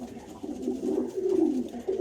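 Pigeons coo in low, soft, rolling murmurs, a steady throaty burble close by with no other sounds.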